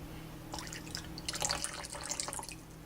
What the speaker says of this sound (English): I add about a tablespoon of apple cider vinegar